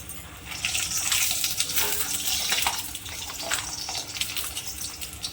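A paratha frying in white oil in a pan, producing a continuous bright crackling sizzle with small spitting pops, fairly close and steady without talk.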